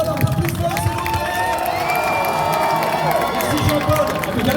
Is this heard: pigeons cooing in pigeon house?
no